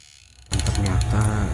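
A homemade electric fish stunner built around a box transformer, wired to an old speaker, starts up abruptly into a loud, harsh, buzzing electrical drone with a rattling, grinding edge that holds steady after a moment of near silence.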